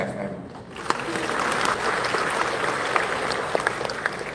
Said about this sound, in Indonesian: Tepuk tangan untuk CFM.